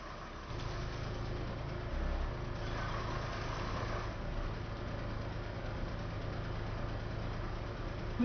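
A dump truck engine idles in the video game RoadCraft, giving a steady, low, continuous hum that stays near and holds an even level throughout with no pauses.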